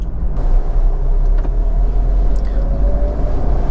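A car rolls along in second gear at roughly 30 km/h and about 1500 RPM, approaching a speed breaker, giving a steady low engine rumble with road noise, close and continuous, no voices.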